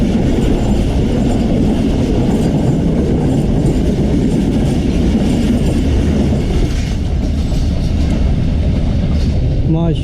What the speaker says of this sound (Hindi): 101 अप सुबह रफ्तार लाहौर से रावलपिंडी के लिए GU20 के साथ आ रही है।